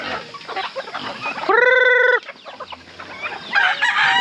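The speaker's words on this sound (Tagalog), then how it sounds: "Ito na mga pabo namin." Farm turkeys cluck and call close by, with one long, loud crowing cry in the middle and scattered clucking before and after.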